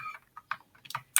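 Quick bursts of computer keyboard typing, close and fairly soft, with short irregular runs of key clicks separated by brief pauses while code for a FastAPI app is entered.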